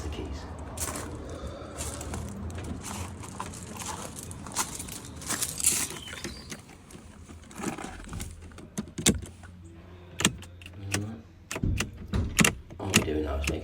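Car keys jangling while keys are tested in a vehicle, a run of metallic rattles and clinks up close with clicks and handling noises, some sharper taps toward the end.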